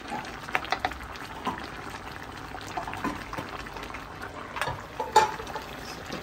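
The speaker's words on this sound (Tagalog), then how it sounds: "pakuluan natin ito ng mga 1 minute ang ating sita" Crabs with squash simmer in a pot of coconut soup, a soft steady bubbling with faint pops and occasional small clinks, quiet and close.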